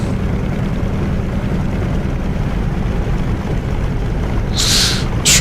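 An F6F Hellcat's radial engine rumbles steadily as it taxis in a flight simulator game, a constant loud low drone with a brief brighter hiss near the end.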